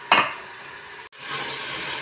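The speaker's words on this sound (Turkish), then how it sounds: "Ispanağı da verdim. Güzelce kavuruyorum." Spinach sautéing in a pot for a spinach soup: a short clatter of stirring at the start, then a steady broadband sizzle that cuts out briefly before returning and holding, close and fairly loud with no talk.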